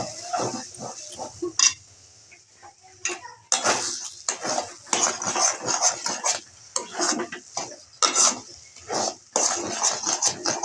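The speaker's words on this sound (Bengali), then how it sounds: "সুজি নাড়া কমপ্লিট হয়ে গেছে" Cooked semolina (suji) with cardamom being stirred in a pan, giving repeated clinks and scrapes of a spoon against metal in an irregular rhythm, fairly close and with no talk.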